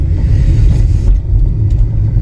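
Road traffic on the Badrinath–Kedarnath highway in the mountains, a close, loud rumble of a passing car engine with a brief dip before the rumble resumes.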